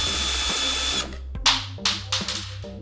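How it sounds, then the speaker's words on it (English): A power drill whirs steadily while removing skateboard truck bolts, then stops and gives several short close bursts as it spins the bolts out. "This is where the drill makes your life a little bit easier."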